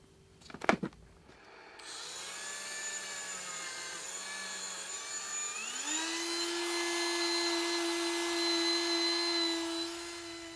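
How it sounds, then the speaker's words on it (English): A Dremel rotary tool with a polishing bit smoothing the sharp edges of an epoxy resin skull: a brief clatter, then a thin steady whine that rises in pitch and holds, close and alone. "I'm going to do that by using my Dremel with a polishing bit"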